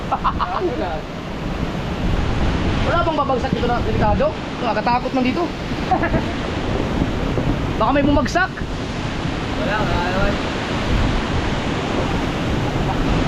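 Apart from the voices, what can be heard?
typhoon Uwan wind and rain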